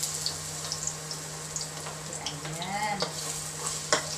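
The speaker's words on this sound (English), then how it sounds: "Gigisa tayo ng ating sibuyas or the onions." Onions sautéing in a pan for a broccoli and pork dish, a continuous close sizzle with light clinks and scrapes of a utensil, and a brief spoken word over it.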